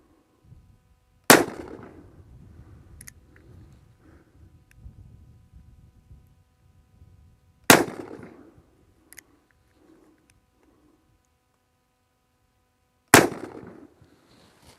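Three loud, sharp gunshots from a 2021 Colt Anaconda revolver at an outdoor shooting range, spaced about six seconds apart, each followed by a short ringing decay and quiet handling noise between shots.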